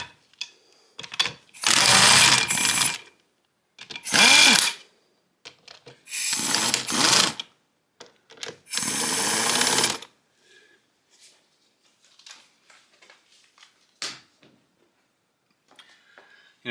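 A pneumatic air tool spins out engine bolts during the teardown of a 2012 Kawasaki KX250F, giving four loud, close bursts of rattling ratchet hammering, each about one to two seconds long. Only faint clinks of handling follow.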